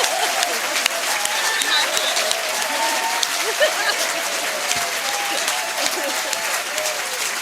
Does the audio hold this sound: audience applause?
yes